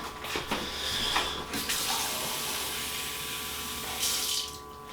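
A faucet runs steadily with fresh water for a pet, a continuous close splashing stream that starts and stops at the edges and holds steady throughout, without voices.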